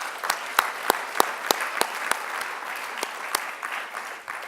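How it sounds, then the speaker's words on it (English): Applause at a leadership conference for community development graduates, a sparse, moderately loud patter with several sharp individual claps standing out at a rough beat before it thins out. "about a round of applause for these guys for the morning?"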